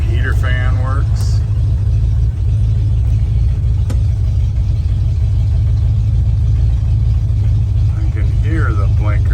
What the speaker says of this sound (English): Truck sure runs good.